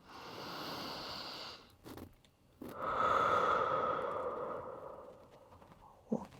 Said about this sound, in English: Breathing in and out at the bottom.